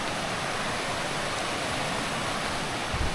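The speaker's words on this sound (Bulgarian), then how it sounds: "Много яка рекичка." A small mountain stream beside an 11 km hiking trail, a steady, close hiss of rushing, splashing water that stays constant with no talking.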